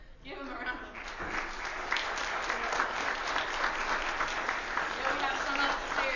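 A Vacation Bible School commencement audience breaks into sustained applause, a dense steady clatter of clapping that swells after a brief start and keeps going.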